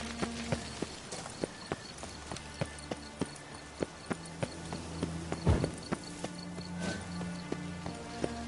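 Horse hooves clip-clop in a video game, a steady, evenly paced run of sharp hoof strikes over a continuous background hum, with a brief louder thump midway.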